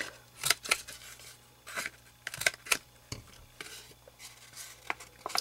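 Scissors snip the corners of a paper background piece at a craft table, several short, crisp cuts in an irregular rhythm, close and fairly quiet.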